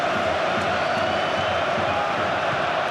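A football stadium crowd at Croatia v England roars in a steady, dense wash of cheering and chanting, loud and unbroken throughout.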